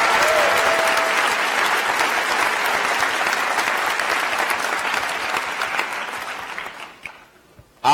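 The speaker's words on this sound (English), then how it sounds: "Can we give a round of applause to all the parents here today?" Applause at a University of Michigan information school commencement ceremony, a large crowd clapping steadily and fairly loud, then fading out toward the end.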